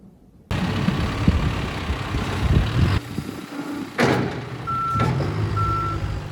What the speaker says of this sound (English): you've probably noticed some trucks or tractors moving piles of snow so you can walk around safely